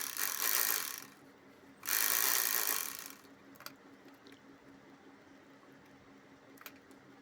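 A sewing machine double-stitches the bottom hem of a fabric piece in two short whirring bursts, each about a second long, followed by quiet with a few faint clicks.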